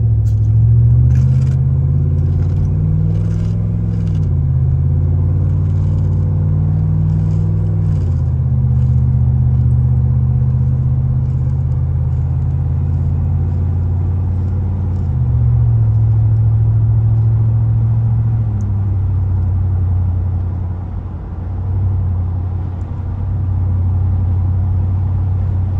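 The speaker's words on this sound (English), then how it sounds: "pull through the gears while I pull off in this light" A Cadillac Escalade accelerating from a light through its gears, a loud, close engine drone rising in pitch then dropping at each shift, several shifts in sequence before settling into a steady cruise.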